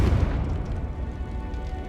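Confringo fire spell in Hogwarts Legacy gameplay on PC, a deep booming blast with a rumbling, noisy tail that stays fairly steady and moderately loud for about two seconds.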